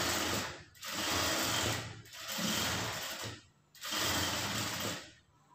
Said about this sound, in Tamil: கிளாத்தை மறுபடியும் திருப்பிட்டு மேலே வந்து டாப் ஸ்டிச் போட்டுக்குங்க